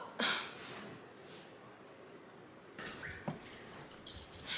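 A dog in a horror scene gives a few soft, brief whimpers and yips, faint and sporadic against a quiet background, with a couple of sharper knocks later on.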